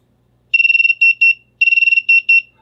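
A small buzzer driven by a Raspberry Pi Pico sounds a shrill electronic pattern: a rapid burst of short beeps followed by two longer tones, the whole sequence played twice, loud and close with silence between.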